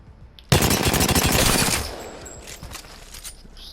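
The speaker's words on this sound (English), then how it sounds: "I don't usually hip fire with the RE45 for warm up" RE45 pistol hip fire in a video game: a sudden, loud, rapid string of close shots runs for over a second, then a ringing tail and scattered mechanical clicks fade out, with no talking.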